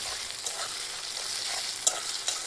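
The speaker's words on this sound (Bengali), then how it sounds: "টমেটোটা একটু ভেজে নেব মশলাটা তো করেছি আদা লঙ্কা আর জিরা" Tomato frying in a pan with ginger, chili, cumin and garlic, a steady close hiss of sizzling oil with a few faint stirring scrapes and clicks, no voices.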